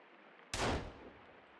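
A single loud gunshot in the survival game Sons of the Forest, fired at an enemy from a distance, with a sharp crack followed by a short decaying tail.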